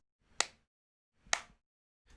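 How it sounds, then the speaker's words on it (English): Two sharp recorded hand claps ring out about a second apart, each with a short decaying tail, as the start of a third cuts in at the end, with a faint low background noise sitting between them. "if you just listen to our claps here,"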